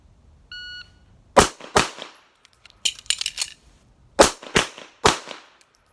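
A handgun qualification course string: a timer beep, then two sharp, loud close-range pistol shots, a pause with clattering reload handling, then three more quick shots in a tight sequence.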